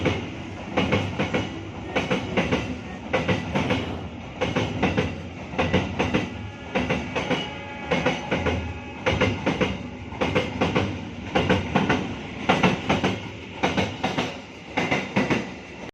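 An Indonesian Saunggalih Premium passenger train rolls steadily along the rails, its wheels clacking in a regular rhythm over joints, loud and continuous throughout.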